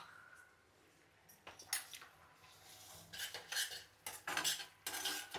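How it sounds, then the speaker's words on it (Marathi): Spoon stirring and scraping a spiced masala paste with oil in a pan for dum aloo, with jeera powder mixed in. The clinks and scrapes are close and come in bursts, over a faint sizzle, with no talking. "मसाल्याला आता तेल सुटेपर्यंत चांगलं जरा परतवायचं असं."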